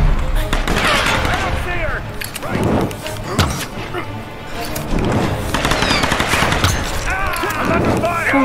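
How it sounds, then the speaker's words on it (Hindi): Rapid bursts of gunfire crackle almost continuously over several seconds, with heavier shots layered in, against a busy, noisy background, in the video game Tomb Raider. "ये गोलियां मार रहा है भाई,"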